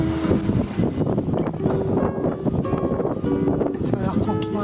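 A sailboat's motor drones steadily as the boat enters a marina behind mangroves near João Pessoa, Brazil, mixed with wind rumble and water noise while someone talks over it.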